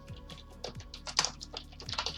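Typing on a computer keyboard while entering Python code for Autodesk Maya, a quick run of close, light key clicks with uneven rhythm and no talk.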